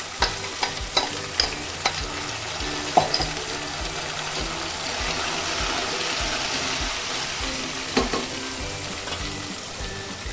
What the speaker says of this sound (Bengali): আমি এখন বাটা মশলাটা দিয়ে দিব।